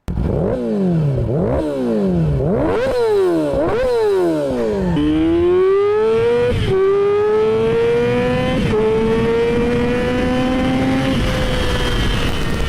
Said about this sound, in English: take a listen to how this bike sounds